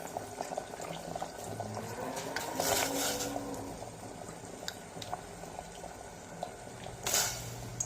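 Jackfruit seeds and soaked cashews simmer in a pot, giving a soft, continuous bubbling with faint pops and a couple of louder splashy bursts, low and close.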